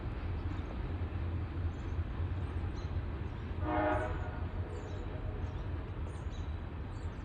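A long freight train with distributed power units rumbles across a trestle in Kenova, West Virginia, a steady heavy rolling roar throughout, with a brief horn-like tonal swell rising near the middle before fading back into the continuous rail noise.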